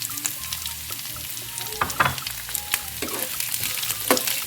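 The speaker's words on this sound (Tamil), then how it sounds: "இப்போ நம்ம எடுத்து வச்சுருக்க கருவேப்பிலையும் ஆட் பண்ணிக்கலாம். இருக்க பச்சை மிளகாயும் வர மிளகாயும் ஆட் பண்ணிக்கலாம்." Curry leaves with green and dried red chilies frying alongside onions in hot oil, a continuous close sizzle with scattered sharp crackles and pops, no talking.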